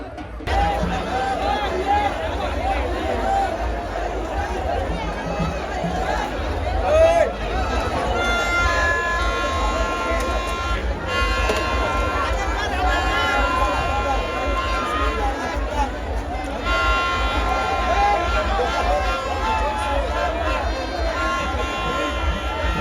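Dense festival crowd at the Raibadevi yatra in a Maharashtra village, with the Khandoba kathi procession: steady loud hubbub of many voices with chatter and excited calls, continuous throughout with no pauses.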